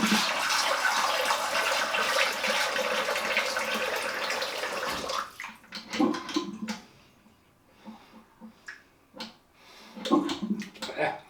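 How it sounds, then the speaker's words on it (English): Tap water gushes into a sink for about five seconds, then stops, followed by scattered clatter and a person talking. "Get some water in the sink."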